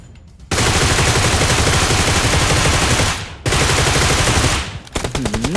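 Gunfire in PUBG Metro: two long, loud, close bursts of sustained automatic fire separated by a brief pause, then a few trailing shots.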